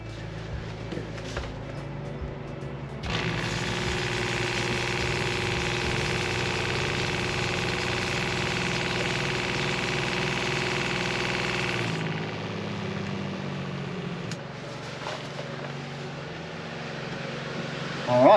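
A 12V caravan water pump runs after being repaired, a steady mechanical hum that starts abruptly, drones evenly at close range for about nine seconds, then cuts off, leaving quieter background noise.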